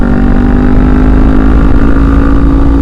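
A Kawasaki Ninja 400 motorcycle cruises on the road on new tires, its engine giving a loud, continuous, close drone mixed with wind rush and holding steady throughout.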